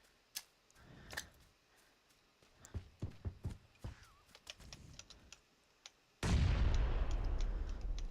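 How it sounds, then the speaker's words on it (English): A grenade detonates in the battle royale game PUBG as one loud, close blast that rumbles on for a couple of seconds, preceded by scattered faint clicks and taps. "The bomb goes off, but does not land any kills."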